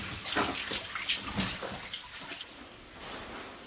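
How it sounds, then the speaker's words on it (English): Water pouring down a waterfall inside a flooded 1890s copper mine, a continuous splashing rush with gurgling bursts, close by and echoing in the underground space. "Go around the waterfall here."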